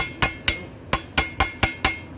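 A hammer strikes a chisel to flatten the lock on the main pulley of a Montanari gear motor, giving seven sharp metallic clanks in an uneven rhythm, close and loud, with a slight ring after each blow.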